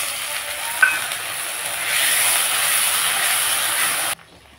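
Ginger garlic paste frying in a pan for a dry cabbage dish gives a steady hissing sizzle with one small click early on; the sizzle swells midway, then cuts off abruptly near the end.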